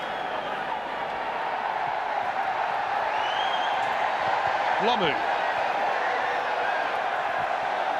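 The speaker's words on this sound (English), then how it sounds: "The crowd really getting involved in this game." A rugby crowd at the Manawatu Showgrounds in Palmerston North during a 1996 Super Rugby match between the Blues and the Hurricanes, a steady, distant stadium roar running beneath someone commentator's voice.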